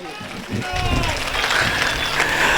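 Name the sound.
audience applause at a poetry gathering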